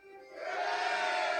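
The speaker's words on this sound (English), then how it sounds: "A bittersweet cheer erupts from the soldiers." A crowd of soldiers in the game Reverse: 1999 lets out a swelling cheer that builds quickly and holds loud, with many voices blending into one roar.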